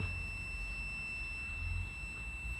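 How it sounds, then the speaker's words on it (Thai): An active buzzer on an IoT pet feeder sounds a continuous high-pitched tone, warning that the food level has dropped low; the steady electronic whine holds unbroken over a quiet low hum. "ก็คือจะมีเสียง Active Buzzer นะครับ ทำงาน ส่งเสียงแจ้งเตือนว่าตอนนี้อาหารของ สัตว์เลี้ยงนะครับ ใกล้จะหมดแล้วนะครับ"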